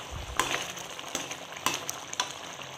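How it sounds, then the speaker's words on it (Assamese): Vegetables boil in a pan, bubbling and sizzling in a soft continuous simmer punctuated by occasional sharper pops and crackles, close and fairly quiet. "চব্জিখিনি মই উতলিছে, দেখিছে চাগে আপোনালোকে"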